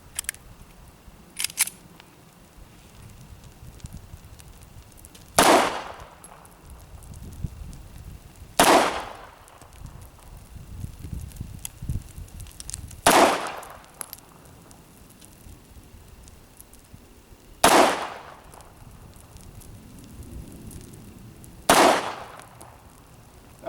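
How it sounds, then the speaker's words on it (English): A Sig Sauer P290RS 9mm pistol fires five sharp, loud shots spaced a few seconds apart at a range, each crack standing alone against quiet background. "So we'll go ahead and shoot the rest of these off."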